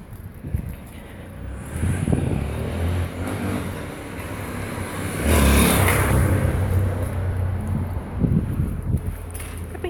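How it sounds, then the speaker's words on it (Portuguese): A car passes along a quiet residential street, the rumble swelling to a peak midway and fading again amid wind buffeting the microphone. "Tá vindo mais carro."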